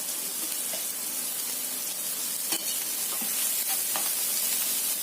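Grated radish stir-fries in a pan, sizzling steadily and continuously for a few seconds, with occasional scrapes and clicks of stirring. No one speaks.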